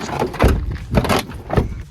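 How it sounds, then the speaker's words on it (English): Door of a junkyard GM SUV being worked open, giving three loud, heavy clunks and rattles about half a second apart, close by. "Open the door!"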